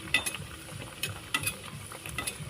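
Lentil kachori frying in hot oil in a wok, giving a soft crackling bubble with scattered sharp spatters and light stirring clicks, close and moderately quiet, no voices.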